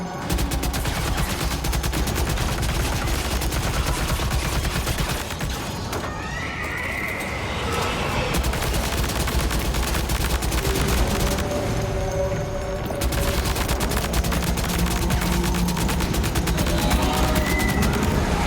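Rapid gunfire in Death Stranding 2 rattles densely and continuously over a noisy outdoor scene, loud and close, with a horse's whinny breaking through at moments.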